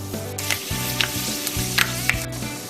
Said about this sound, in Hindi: इसमें सबसे पहले मैं डालूंगी मेथे, और मेथे थोड़े मैं भून लूंगी